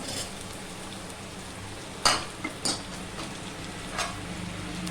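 Beans drop into a sizzling pan for vegetable biryani, a quiet steady fry punctuated by a few sharp clinks and stirring scrapes, close by and without talk.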